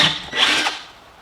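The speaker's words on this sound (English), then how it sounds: "after drilling the holes for the cords" A power drill whines briefly as it bores a small cord hole into wood, rising to a loud peak and then tapering off as the bit slows.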